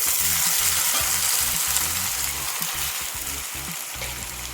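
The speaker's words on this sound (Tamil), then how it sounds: "இப்போ தக்காளியை போட்டுக்கணும்" Tomatoes go into a pan of frying onions and green chillies for tomato thokku, giving a steady, loud sizzle throughout with bursts of stirring scrapes, and no voices.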